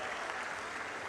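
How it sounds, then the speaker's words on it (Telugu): An audience at a welfare-school event with Chief Minister Chandrababu Naidu claps in a dense, even wash of applause, fairly distant and soft, sustained without pause. "దీనికి మీరందరూ చేస్తామని గట్టిగా చప్పట్లు కొట్టి హర్షాన్ని"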